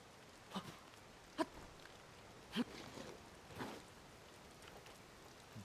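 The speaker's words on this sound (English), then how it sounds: "you know that it's raining. You can hear it" Rain falling in a video game, a faint steady patter with a few sharper drops and thumps standing out now and then, no one speaking over it.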